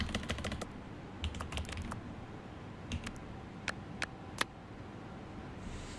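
A computer keyboard is typed on in quick irregular bursts of sharp clicks, close and fairly quiet, with short pauses between runs of keystrokes and no talking.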